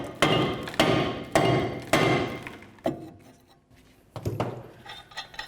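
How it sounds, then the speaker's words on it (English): Several sharp metallic hammer blows ring out on a rear brake rotor of a Chevy Malibu, a quick series of strikes followed by a pause and a few more hits. "Take your hammer and give it a couple loving bonks."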